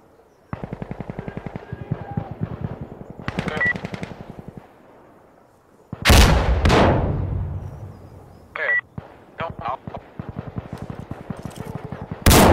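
Gunfire in the shooter Insurgency: Sandstorm: bursts of rapid automatic fire, with a loud close volley and scattered single shots between them, and a faint radio-style voice under the firing.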